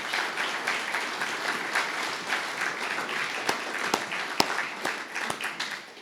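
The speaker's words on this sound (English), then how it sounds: "You should give yourself a round of applause" Steady applause from an audience at a community meeting about a wildfire near Running Springs, dense clapping sustained throughout with a few sharper claps standing out near the end.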